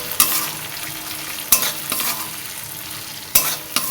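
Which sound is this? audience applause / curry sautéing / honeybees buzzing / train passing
curry sautéing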